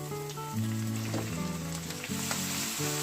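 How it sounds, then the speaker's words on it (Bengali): Broccoli goes into a pan of frying onions and chopped green chilies, and a steady, close sizzle carries on throughout beneath melodic background music. "আমি এবার কেটে ধুয়ে পরিষ্কার করে রাখা ব্রোকুলোগুলোকে দিয়ে দিলাম"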